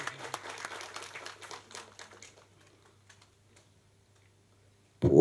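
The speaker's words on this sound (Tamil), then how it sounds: "கைத்தட்டுங்க, இதுக்கு தான் கைத்தட்டணும்." A crowd at a Tamil film event claps in a scattered burst that thins to a few isolated claps and fades into near silence, followed by a sudden loud noise at the very end.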